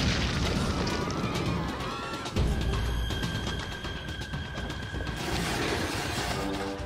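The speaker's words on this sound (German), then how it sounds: "53 Tage lang beschießen die Türken die Stadt." Heavy booming blasts of Turkish siege cannon fire on Constantinople, one deep explosion midway, with clanking, rumbling battle noise and debris continuing around it.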